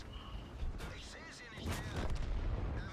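A tank cannon firing in a tanks video game with a Löwe heavy tank: a faint, booming low blast with a rumbling tail, under a player talking over it.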